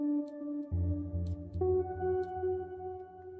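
Sustained synth chords ring out with a soft reverb tail, shifting pitch every second or so, with faint high ticks above.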